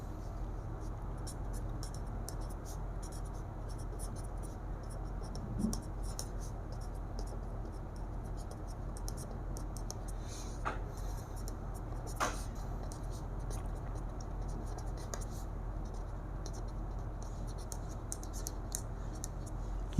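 Pen writing out a definition of natural numbers for a class 6 maths lesson, a steady faint scratching stroke texture running throughout with a few sharper ticks, no talking.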